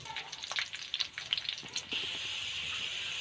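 Garlic frying in oil in a pan, first with brief scraping and crackling stirs, then settling into a steady, fairly faint sizzle.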